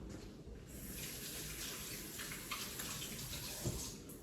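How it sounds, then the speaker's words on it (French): A kitchen tap runs steadily while hands are rinsed under it, a soft continuous gush with brief splashes near the end and no talk. "Je me rince les mains."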